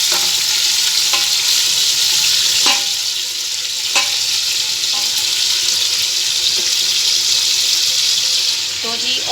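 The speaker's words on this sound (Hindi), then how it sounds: "प्रेशर में हमने ऑयल गरम कर लिया और इसमें अब हम डालेंगे बीफ" Beef hits hot oil in a pressure cooker for nihari, a loud, steady sizzle and crackle with occasional light clinks of stirring and faint talk underneath.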